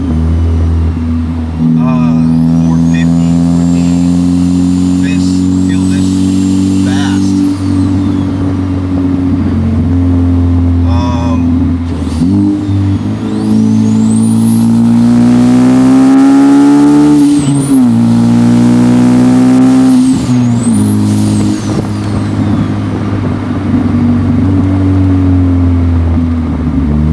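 A tuned 440 WHP Ford Focus ST pulls hard on private backroads, its loud droning engine rising and falling through gear changes, with turbo whistles and a voice talking over the cabin noise.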